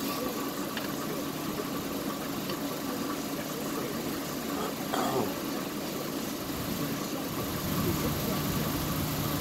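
A Stihl TS 350 concrete saw engine running steadily, a constant buzzing two-stroke drone, with a brief rise in pitch midway and voices talking over it.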